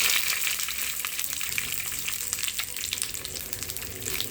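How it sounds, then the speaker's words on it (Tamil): Loud, continuous crackling sizzle of mustard seeds, lentils and dried red chilies popping in hot oil for a tempering, close up, with fine spattering bursts throughout. "எண்ணெய் காஞ்செடுத்து அரை டேபிள் ஸ்பூனுக்கு கடுகு பருப்பு போட்டுக்குவோம்"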